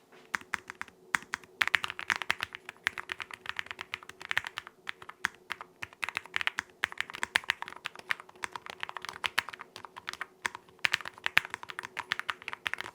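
Fingers type steadily on a low-profile mechanical keyboard with an aluminum body, silicone dampening and metallic keycaps. Crisp, close keystrokes clatter in quick irregular bursts with no talking.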